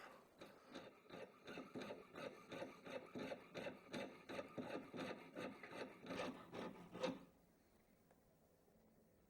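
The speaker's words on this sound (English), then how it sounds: "Now it's got that rough edge from sawing" Small hand saw cutting through silver, a rapid run of even back-and-forth rasping strokes at close range that stops abruptly, followed by near silence.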